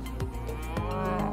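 A person imitates a cow, giving one drawn-out, low, nasal moo close to the microphone, alone.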